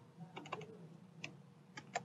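Sparse keystrokes on a computer keyboard while HTML code is entered, a few quiet taps in small clusters separated by short gaps.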